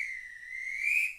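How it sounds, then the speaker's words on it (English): A single sustained whistle sound effect fired from a sports-radio soundboard, a bright steady referee-style tone lasting about a second that swells slightly at the end before cutting off, heard alone with no talk. "I'm going to give you the whistle."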